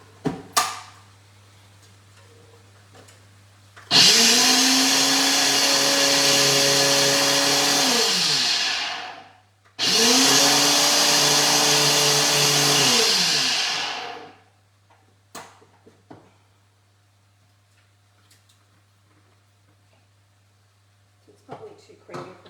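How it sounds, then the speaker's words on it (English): A NutriBullet blender whirs loudly twice, each burst about five seconds long with a short gap between, blending beef lasagne ingredients, with quiet clatter before and after. "good old NutriBullet. Just gonna whisk that up."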